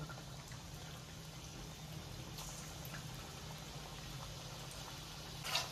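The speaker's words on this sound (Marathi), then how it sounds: "आता कोफ्ते तळायला घेऊया" Soft, steady sizzling and crackling of koftas frying in hot oil over a low flame, continuous and close, with a brief louder spatter at the end.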